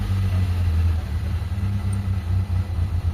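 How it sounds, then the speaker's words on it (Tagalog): A car engine with a fault idles unevenly nearby, a steady low rumble broken by irregular pops and sputters from the exhaust. "Pumuputok-putok yung tambucho mga bossing."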